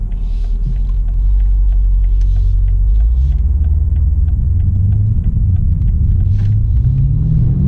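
A BMW M5 Competition's engine rumbles steadily as the car swings through a U-turn, a loud, low drone that climbs gradually in pitch near the end as the car picks up speed.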